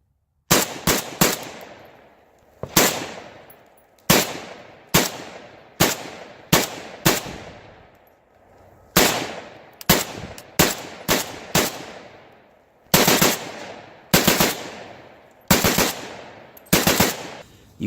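Repeated bursts of gunfire from an Arsenal SLR-107FR AK-pattern rifle with a short barrel, combo block and muzzle brake: loud, sharp shots in quick doubles and triples with brief pauses, each ringing out, no talking.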